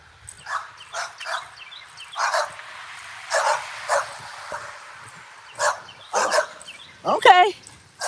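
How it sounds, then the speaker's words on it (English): Several small dogs bark and yip in short bursts, moderately close, with a quick run of high yelps near the end. "Those are some nice little big dogs."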